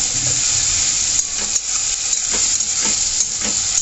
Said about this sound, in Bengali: এই আদা রসুনের পেস্টটাকে ভালো করে ভেজে নিতে হবে